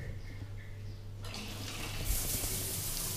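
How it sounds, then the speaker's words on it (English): A shower head is turned up to full blast, the water shifting abruptly from a quieter flow to a loud, broad hissing spray that continues close by. "I will show you what full blast is with this shower head."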